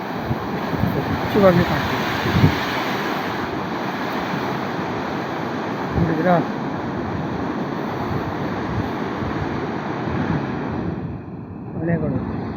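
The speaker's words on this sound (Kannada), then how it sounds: "ಅಲೆಗಳು, ಬೆಳಗಿನ ಅಲೆಗಳು ಎಷ್ಟು ಚಂದವಾಗಿ ಬಿಡ್ತಾ ಇದೆ ಅಲೆಗಳ ಮೇಲೆ" Morning ocean waves break and wash ashore in a continuous, moderately loud roar, with a few stronger surges. A person talks over the surf.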